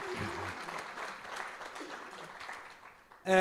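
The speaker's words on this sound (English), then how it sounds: "let's give our speakers a round of applause" Dense applause from a conference audience for speakers, steady clapping that fades slightly before ending abruptly.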